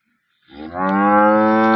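A local cow offered for sale at a farm gives one long, loud, steady moo that starts after a short silence and holds to the end, with no talk.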